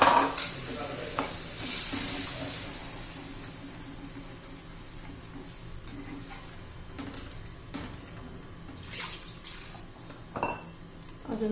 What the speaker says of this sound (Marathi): आता त्यात पाणी घालायचे